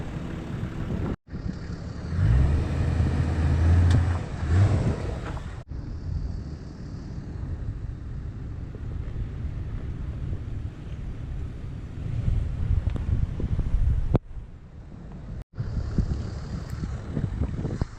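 A strong gale buffets the microphone on a coastal off-road 4WD trail near Catherine Hill Bay, a loud continuous roaring rush with heavy low rumble, broken by a few abrupt cuts.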